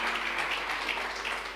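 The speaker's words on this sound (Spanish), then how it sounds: "Dale un aplauso al Señor" A church congregation applauds in a steady, dense wash of clapping that holds evenly throughout, fairly close and without any voices over it.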